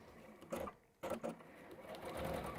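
A sewing machine stitches along marked lines in short bursts, whirring briefly, pausing, then running again close by, with a soft voice faintly underneath.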